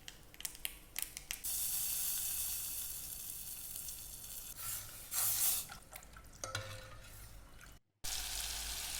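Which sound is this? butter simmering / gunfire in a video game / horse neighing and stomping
butter simmering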